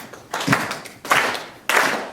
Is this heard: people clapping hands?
yes